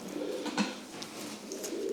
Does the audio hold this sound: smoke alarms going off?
no